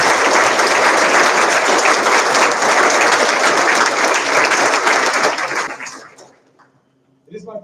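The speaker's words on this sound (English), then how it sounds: "Please share me in giving them a round of applause." A large crowd at a JROTC birthday ball applauds loudly and continuously, a thick, sustained clapping that fades out after about six seconds, followed by a brief new sound at the very end.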